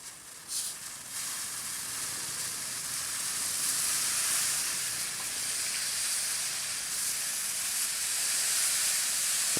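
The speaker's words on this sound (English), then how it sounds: "This is a charcoal barbecue." Steady bright hiss of food sizzling on a Thai charcoal barbecue, continuous and close, with no talking.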